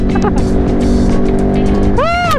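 Ducati Monster 937 SP motorcycle ridden on a race track, a loud steady engine drone with harmonic tones and a rising whine near the end, up close with wind noise.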